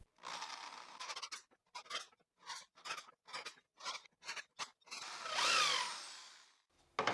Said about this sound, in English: The drilling will be done at an angle,